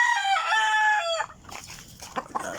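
Backyard chickens at feeding time: a rooster lets out a loud, clear crow up close, then hens cluck and scratch around in softer, scattered bursts.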